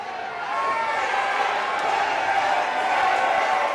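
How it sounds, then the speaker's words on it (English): A wrestling crowd cheers and roars loudly and steadily for the whole stretch, a dense, continuous wash of voices without a break. "Crowd is going crazy for Panda."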